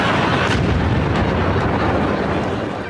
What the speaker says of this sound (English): there's going to be an explosion